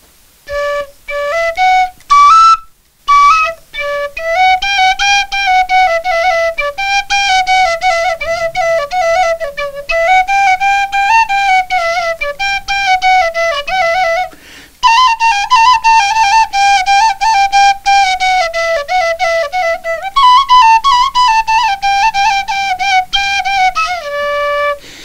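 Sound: Moldovan fluier folk flute playing the song Zâi Fluiere

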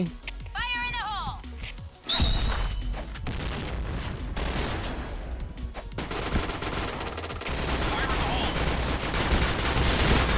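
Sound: gunfire from the video game Point Blank

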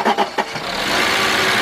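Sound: 1997 Mercedes-Benz E320 engine cranking and starting

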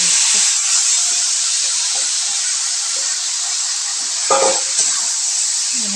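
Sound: leftover rice frying in a pan for pulao

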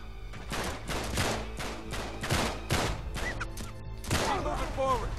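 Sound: gunfire from enemy snipers in Uncharted 3 video game

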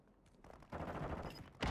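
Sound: gunfire from the video game Warzone 2

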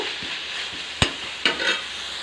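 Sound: sautéing ground onion, garlic, cumin and green chili paste

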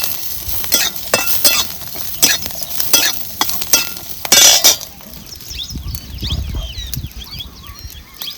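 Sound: roasting garlic and chillies in a pan

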